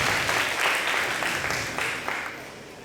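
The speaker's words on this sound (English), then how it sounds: "A big applause for all of you for supporting us" An audience at an Onam 2015 community celebration claps in a dense, sustained round of applause that fills the whole stretch and slowly tapers off toward the end.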